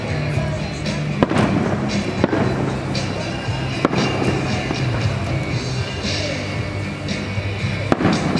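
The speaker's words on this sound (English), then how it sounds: "Little pink fireworks for you and me." Fireworks burst at a 4th of July celebration in Valdese, North Carolina, sharp pops and bangs every second or so over a loud continuous crowd-and-crackle rumble outdoors, with voices mixed in.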